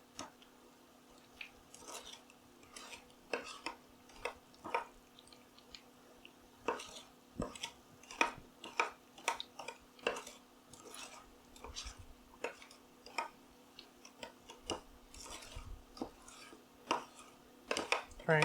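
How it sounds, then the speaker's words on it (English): A gritty honey chicken sauce being stirred, a utensil scraping and clinking through the grainy mixture in a rapid, uneven run of close, crisp scratches and taps over a quiet background. "the grittiness that you're hearing when I'm stirring this goes away once it's warmed up and all melted"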